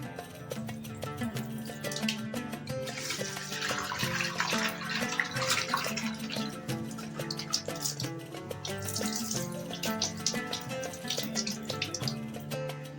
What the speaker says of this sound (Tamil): சிக்கனை வாஷ் பண்ணி முடிச்சிட்டோம்.